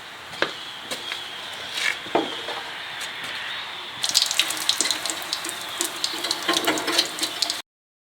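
Plastic parts being wet sanded by hand with 320 grit paper and water for a Royal Star paint job give repeated short scraping strokes with wet splashy texture, growing busier and louder in the second half.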